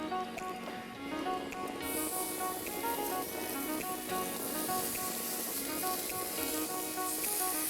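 Choice Certified Angus steaks sizzling on a hot grill, a steady crackling hiss with occasional pops, close and continuous, over faint background music.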